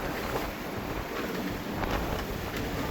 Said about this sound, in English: The waves.